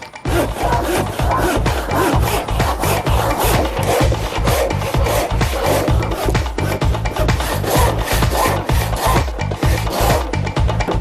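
Hand saw cutting through timber during a family room building job, a steady fast rhythm of rasping back-and-forth strokes, loud and close, continuing alone throughout.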